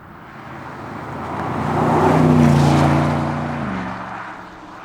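A Porsche Panamera Turbo S E-Hybrid accelerates at full throttle, its engine note rising and swelling as it draws nearer, peaking loudly, then fading as it passes.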